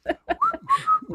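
A person whistles a short tune of a few quick, bright notes, closely miked, mixed in with brief bits of voice around them.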